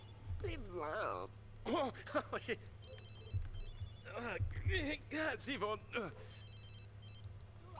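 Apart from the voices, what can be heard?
telephone ringing in The Sims 2 video game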